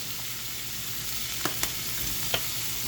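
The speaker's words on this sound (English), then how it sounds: "I'm going to cut it on high because I do want it to sear." Chicken sears in a hot pan on high heat with black garlic and thyme, giving a steady close sizzle and a few sharp pops and crackles, no talking.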